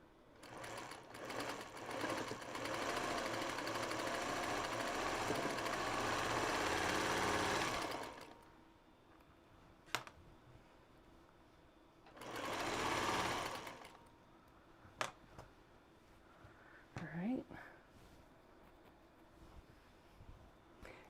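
A sewing machine stitching rows of scrap fabric together for a quilt, a long run of fast steady rumbling, then silence with clicks, then a shorter second burst of stitching.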